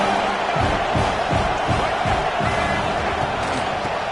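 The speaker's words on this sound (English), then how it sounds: "The crowd really making some noise now, trying to help out this defense to get this stop near the goal line" A stadium crowd at an American football game roars steadily through the whole stretch, dense and loud, with bursts of cheering and shouting rising from the constant wash of noise.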